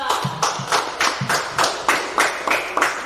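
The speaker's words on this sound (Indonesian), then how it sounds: "kita berikan tepuk tangan untuk kelompok 2" A classroom group claps for group 2 in a steady rhythm of about ten beats, close by and fairly loud.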